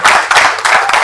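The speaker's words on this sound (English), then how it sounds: "Let us continue with the organic round of applause" Applause from an audience at a television launch event in Nigeria: dense, steady clapping from a crowd, loud and close, swelling in waves across the moment with no one talking over it.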